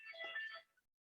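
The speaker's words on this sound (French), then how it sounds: "c'est mon téléphone" A mobile phone ringtone sounds during an online webinar, a brief bright electronic melody heard faintly and close, then cut off abruptly into silence.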